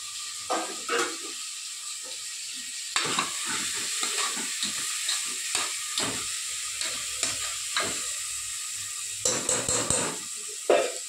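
Onions and tomatoes frying in a pan, with a steady sizzle running throughout and repeated close clinks and scrapes as a utensil stirs them, no voices.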